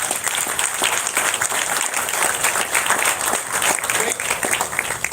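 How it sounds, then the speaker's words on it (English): An outdoor crowd at an athletic field dedication ceremony gives a sustained, dense round of applause, steady and fairly loud throughout with no talking over it. "So let's give them another round of applause."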